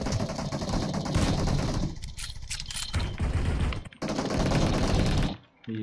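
Rapid bursts of shotgun fire in a multiplayer shooter game, loud and dense with a couple of brief pauses before the firing resumes and cuts off near the end.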